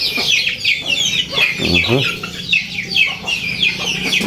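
Brahma chickens, one of them weak and sick, cluck steadily at close range while they peck at feed, with busy overlapping calls and a few sharper squawks.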